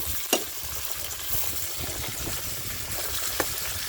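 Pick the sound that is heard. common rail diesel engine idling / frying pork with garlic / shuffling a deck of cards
frying pork with garlic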